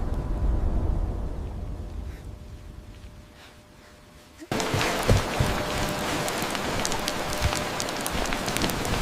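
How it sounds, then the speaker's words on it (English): Rain falls steadily outdoors, a soft wash of drops that drops quieter midway, then returns louder and closer with scattered splashes and patters. "Just a little rain."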